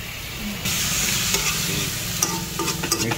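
Pechay vegetables with salt stirred in a pan, a loud, close sizzle with quick scraping and clattering strokes of a utensil against the pan throughout, no talking.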